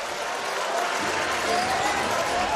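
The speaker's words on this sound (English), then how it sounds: "you can hear the home crowd just getting a little restless" Home crowd at an NBL pre-season basketball game between Melbourne United and South East Melbourne Phoenix, a steady broad roar of cheering and clapping filling the arena, with a commentator's voice faintly underneath.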